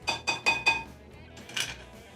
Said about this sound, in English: We will whisk that together